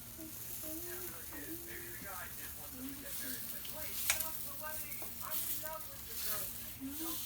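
Food sizzling in a stainless steel pan on a Frigidaire Gallery induction cooktop, a steady quiet hiss running beneath someone talking.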